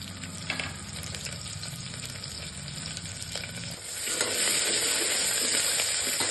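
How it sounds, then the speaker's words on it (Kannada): Onions frying with curry leaves and fresh coriander for idli sambar, a steady close sizzle with stirring scrapes throughout, growing a little louder and denser in the last couple of seconds. "ನೋಡಿ ಚೆನ್ನಾಗಿ ಫ್ರೈ ಆಗಬೇಕು. ಸ್ವಲ್ಪ ಈರುಳ್ಳಿ ಕಲರು ಚೇಂಜ್ ಆಗಬೇಕು, ಅಲ್ಲಿವರೆಗೂ ಸ್ವಲ್ಪ ಫ್ರೈ ಮಾಡ್ಕೊಳ್ಳೋಣ"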